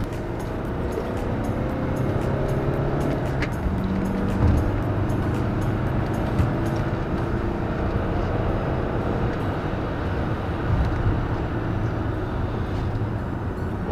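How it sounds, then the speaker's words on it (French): A BMW E90 320D diesel engine revving during a test drive after an intake air hose replacement, a steady low droning rumble heard continuously with no talk. "ça pouvait être un peu bruyant pour vous parce que je testais bien sûr en montant dans les tours"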